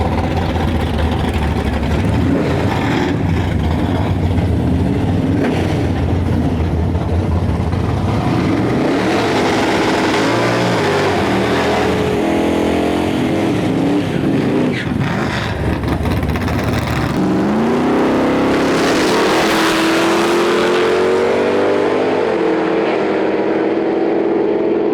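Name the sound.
drag racing cars launching, including a square body Chevy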